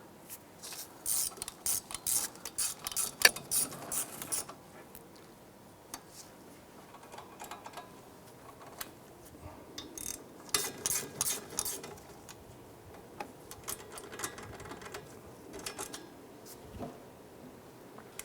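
A ratchet clicks in rapid bursts while tightening brake caliper bolts on a 2001-2007 Ford Escape, with short ratcheting runs separated by pauses and faint handling noises, close and fairly clear.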